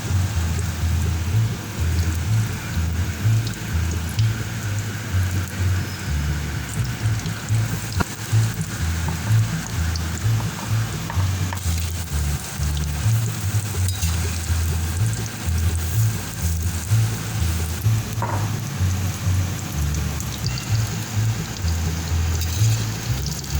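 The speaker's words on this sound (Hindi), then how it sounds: "इसी तरीके से सारी ये फ्राई कर लूँगी।" Chili pakoras deep-fry in hot oil with a constant, dense sizzle and bubbling crackle that holds steady and close throughout.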